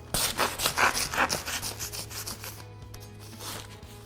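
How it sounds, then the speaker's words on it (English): A razor knife slices open a paper bag of mortar mix: a few quick, close rasping strokes for about two seconds, then a fainter scraping tail. "So, once you've cut the bag in half, turn it over so that the cut is on the bottom"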